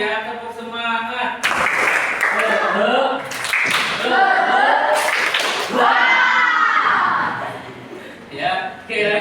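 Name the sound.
children doing a rhythmic spirit clap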